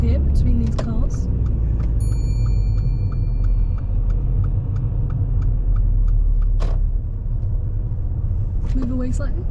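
A car on a road pulling in and parking between other cars, a steady low engine and road rumble heard from inside, with a few faint clicks and ticks over the top.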